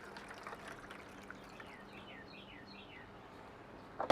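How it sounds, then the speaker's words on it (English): Braising liquid poured into a pan of smoked beef beside a Weber Smokey Mountain smoker: a soft, steady trickle outdoors, with bird chirps in the background and a brief knock at the end. "We're going to pour our braising liquid on in there."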